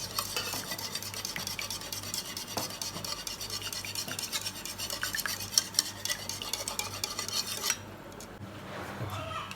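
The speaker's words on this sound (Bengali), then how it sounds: "আমি হ্যান্ড প্রসেসর দিয়ে এটা ফেটিয়ে নিচ্ছি।" A hand processor beats eggs in a bowl for caramel egg pudding, making a dense, rapid rattling whir close by that runs steadily before cutting off near the end. A softer clatter follows, and there is no talking.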